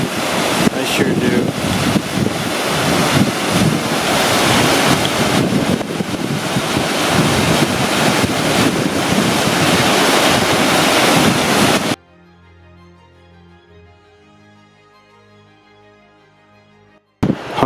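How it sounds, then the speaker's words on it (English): Roaring water on a trail toward Manzanita near Bright Angel, a loud continuous rushing wash with wind buffeting the microphone, cutting off abruptly to near silence toward the end. "Don't you love the sound of roaring water?"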